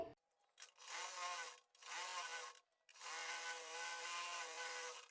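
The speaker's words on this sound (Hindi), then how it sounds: "अब इसके बाद एक बार में ही पूरी सलवार पर हम ऑल राउंड सिलाई लगा देंगे।" A sewing machine stitches around a salwar hem in three fast, continuous runs separated by short pauses, a close, buzzing mechanical whir with nobody speaking.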